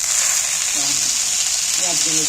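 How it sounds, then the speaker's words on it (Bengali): Water spinach greens frying in a pan with browned onions, a steady loud sizzle and crackle of hot oil throughout, with faint voice-like tones in the background. "শাকগুলো করে নাড়াচাড়া করে ভালো করে ভেজে নিই"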